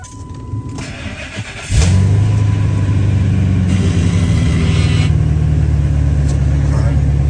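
A Ford Super Duty pickup engine cranks and catches after a quiet opening, then settles into a steady, loud idle that runs close by for the rest of the clip.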